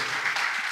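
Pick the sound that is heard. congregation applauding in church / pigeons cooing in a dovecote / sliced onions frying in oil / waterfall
congregation applauding in church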